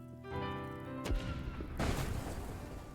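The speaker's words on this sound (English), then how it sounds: "opponent's going to fire 1 cannonball. I'll fire 2" Cannon fire in the pirate card game Cleo - A Pirate's Tale: a sharp booming blast cuts through a sustained musical tone, followed by a second burst of rumbling noise that lingers to the end.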